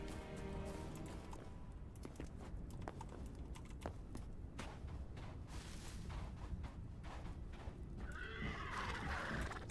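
A horse in the game Hytale neighs and whinnies with some hoof clatter, fairly faint and close, ending in a higher, brighter whinny.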